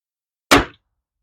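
A single sharp airgun pellet impact strikes a target outdoors in winter, a short clanging knock that decays within a quarter second and is surrounded by silence.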